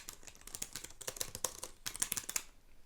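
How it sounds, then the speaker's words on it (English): Brown-switch mechanical keyboard keys clattering in quick irregular bursts of typing, a dense run of sharp clicks with a faint metallic ping, close up and fairly loud with no talking. "These are Browns. They're a little loud though."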